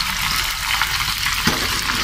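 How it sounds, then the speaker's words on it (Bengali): Food sizzles steadily in a hot frying pan, a close, continuous crackling hiss with a brief louder burst near the end and no voices. "এটা এদিকে কিন্তু ভাজা শুরু হয়ে গেছে"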